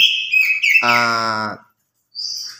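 An oriental magpie-robin (kacer) in breeding condition sings a varied phrase of high whistles and a buzzy harmonic rattle, then falls briefly silent before a short whistled note; close and clear with no talk.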